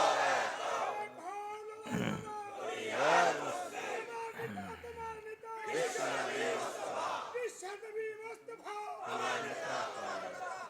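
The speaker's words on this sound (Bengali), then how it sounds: "আরো জোরে একটা তাকবীর দেন না।" A crowd at a religious gathering shouts takbir (Allahu Akbar) in loud, rough unison, in several surging waves mixed with voices and cries, echoing as if in a large open space.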